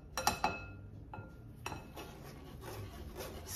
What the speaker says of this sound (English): then I'm gonna stir it